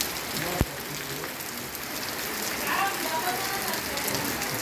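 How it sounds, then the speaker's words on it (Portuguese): Rain falls steadily as a dense, even hiss, with one sharp knock early on and a faint voice underneath. "Dia de chuva."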